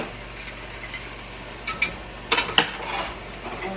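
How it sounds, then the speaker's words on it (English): Whisk knocking and scraping against a metal pot while powdered stock is stirred in, a few quick clinking taps and short bursts of rattling over a low background hum. "I'm just gonna give it a whisk because I'm using the powder"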